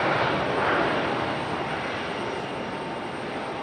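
A Frontier Airbus A320 jet at Raleigh-Durham airport gives a steady broadband engine roar that fades slightly over a few seconds, heard alone without talk.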